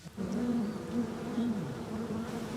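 Bees buzzing close by, a steady droning hum with a slightly wavering pitch that continues on its own, fairly quiet, with no talking.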